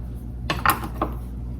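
A knife cutting a pepper in half on a board for peach salsa, a few quick sharp taps and scrapes close by, alone without talk.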